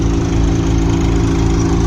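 A tractor engine runs nearby in a rain-soaked peanut field, holding a loud, steady, low idle drone with an even rhythmic throb throughout.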